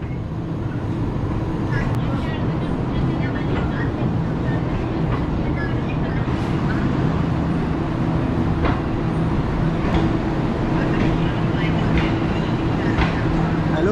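The Green Line Express passenger train departing Khanewal Junction railway station gives a steady, close rumble of wheels and carriage noise with a low droning hum throughout, while someone talks over it.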